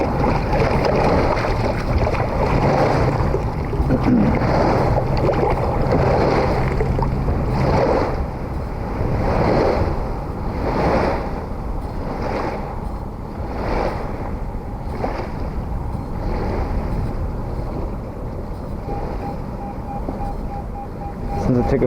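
Wakes from a passing boat slosh along a river under a steady outdoor wash of wind and engine rumble, with rhythmic surges of water lapping close by and no clear speech.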